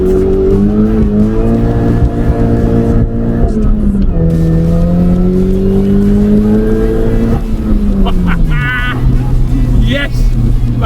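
Mini Cooper S doing a tyre-smoking burnout: a loud, close engine revs hard with a sustained wavering tyre squeal whose pitch rises and falls, followed by brief chirps as the car lets off.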